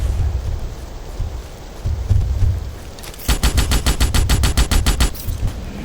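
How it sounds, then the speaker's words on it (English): Rapid bursts of sniper rifle fire in the Starship Troopers game, a loud run of evenly spaced cracks after a rumbling battle bed, with no talk. "Sniper rifle, we were able to nicely aim down and get those shots in."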